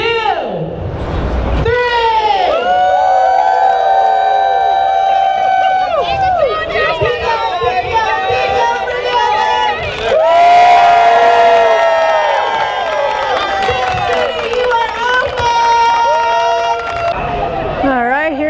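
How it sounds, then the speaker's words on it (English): A crowd yells and cheers loudly and steadily at a Wawa convenience store and gas station grand opening ribbon cutting in Tipp City, Ohio, with shouting voices and children's cries rising and swelling throughout. "Everybody yell."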